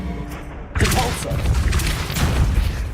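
Depulso force spell cast in the wizarding video game Hogwarts Legacy: a sudden loud whooshing boom that hits after a short quiet lead-in, followed by a rumbling, crashing tail of debris-like thuds.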